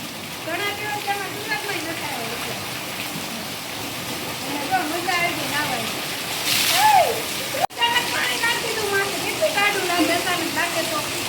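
Steady monsoon rain in Surat patters and hisses on surfaces close by, with voices talking over it and a brief sharp knock partway through.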